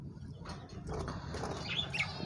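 A pair of pet doves shifting about in their cage, with soft wing flaps and rustling close by and a couple of faint chirps near the end, quiet and brief without speech.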